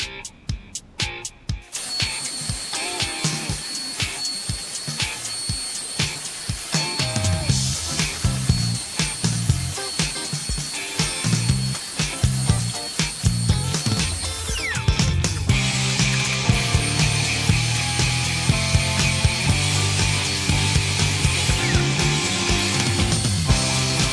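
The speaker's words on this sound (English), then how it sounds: "so now it's time to bevel the inside of those hexagons" A power tool bevels the inside edges of plywood hexagons for a nested table, a steady, loud whine running almost continuously after a few sharp starts, close by with no voices.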